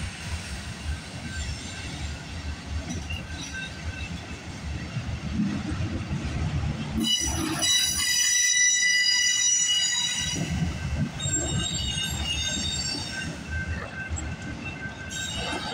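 A CPKC freight train hauling auto racks rolls past close by at night, with a steady heavy rumble of wheels and rail and shrill, sustained wheel squeal that swells midway through.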